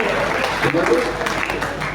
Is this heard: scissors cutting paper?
no